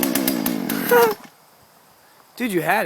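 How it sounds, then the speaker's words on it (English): A chainsaw cuts a part for a car, revving loud and buzzing close by, then cutting out for over a second before roaring back; someone speaks briefly. "gonna cut it with a chainsaw"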